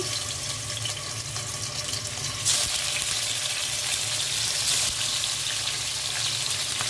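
Rohu fish frying in hot oil, a steady dense sizzle with broad hiss that holds throughout, brief surges of bubbling crackle, fairly close and unbroken by talk.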